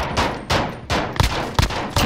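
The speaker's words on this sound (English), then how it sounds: "you shot, like, right next to my head" Uzi gunfire in a first-person video game: four or five loud, sharp shots ring out in uneven bursts, each one sudden and close with a quick decay, and no voice is heard over them.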